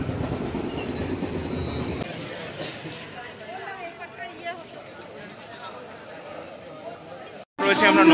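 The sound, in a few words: train arriving at station platform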